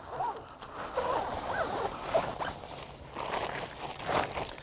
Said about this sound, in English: Now be careful when you zip the tube in again.